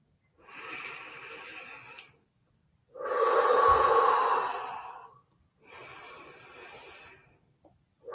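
Slow breaths are heard as if through hands cupped over the ears: three long, muffled, airy inhale and exhale swells with quiet gaps between them, close and alone.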